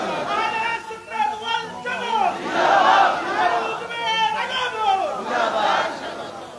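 A large crowd at an outdoor religious rally in a Chattogram market chants a slogan in loud unison, with rising and falling call-and-response shouts swelling over a steady murmur of many voices.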